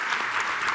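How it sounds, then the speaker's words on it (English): Brief burst of applause from a panel discussion audience, steady clapping at moderate volume with no talking. "I think that deserves a round of applause"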